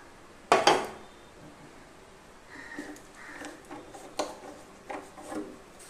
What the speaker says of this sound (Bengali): আমি একটা প্রেসার কুকার গ্যাসের উপর বসিয়ে তার মধ্যে লাউটা দিয়ে দিচ্ছি আর এর মধ্যে দিয়ে দিচ্ছি ভেজে রাখা মুগ ডাল